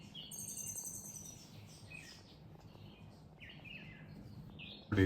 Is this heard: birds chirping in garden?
yes